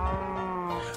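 A cow in Minecraft gives a single low, drawn-out moo, close and steady, lasting about a second with no talk over it.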